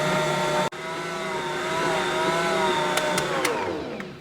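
A Bosch stand mixer runs steadily while kneading bread dough in a home kitchen, a loud continuous motor whine with a brief dropout near the start and a few clicks toward the end, no voices.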